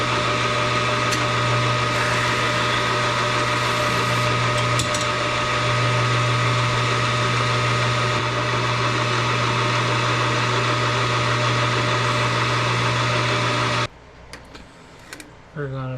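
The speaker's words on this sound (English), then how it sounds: "now we're going to go to the 5/16 drill bit" A 5/16 inch drill bit bores into a barrel workpiece on a machine, a loud steady whirring drone that holds for about fourteen seconds before cutting off abruptly into quiet.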